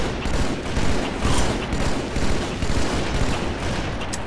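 Video game gunfire bursts in rapid, dense volleys, loud and continuous, with rattling automatic fire and heavier blasts.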